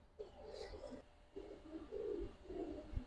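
Pigeons coo at a pigeon farm with several birds, including large females, producing soft, low, repeated coos in short bursts, close by and moderately loud, with a faint voice mixed in.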